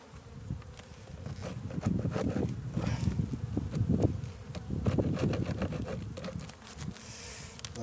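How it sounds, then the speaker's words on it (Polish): Honeybees buzz close by in a steady swarming hum during a spring hive inspection on a 13-degree day, swelling and fading as they move, with soft tapping and rustling underneath. "Tu już pszczół troszkę jest,"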